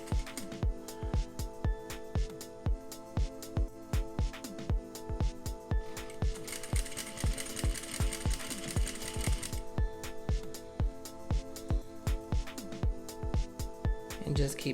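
A sewing machine stitches bias binding onto a seam in a fast, even, rhythmic run of needle thumps, close and steady, while a person talks over it.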